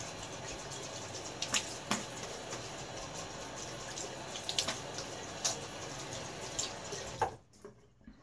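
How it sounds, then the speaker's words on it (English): Running water from a tap splashes steadily as a 1960 Gillette Fat Boy safety razor is rinsed during a wet shave, with a few brighter splashes and clinks, then the flow stops abruptly near the end. "And another little half rinse."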